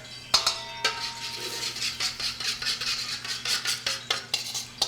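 A utensil scrapes and clinks against a pan as gravy with onions and mushrooms is stirred for Jäger schnitzel, a rhythmic series of close metallic taps and scrapes over a quiet background hum.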